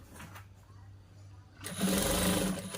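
A sewing machine stitches a boy's school uniform shirt in one short, close burst that starts after a quiet stretch of faint room sound.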